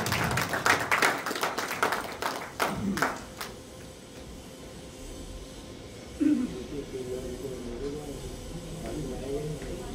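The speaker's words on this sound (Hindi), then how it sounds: "जोरदार ताली।" Scattered claps at an Arya Samaj annual festival gathering, a burst of hand claps at the start that dies away, followed by a murmur of voices.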